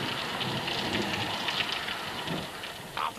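Steady rain falls throughout a thunderstorm in an animated mountain setting, a dense, continuous hiss with no clear thunderclap, loud and close with no voices.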